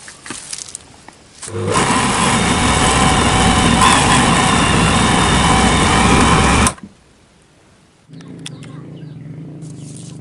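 An electric blender grinds moringa and katuk leaves for fertilizer, roaring loudly and steadily for about five seconds before switching off abruptly, then a lower motor hum returns briefly.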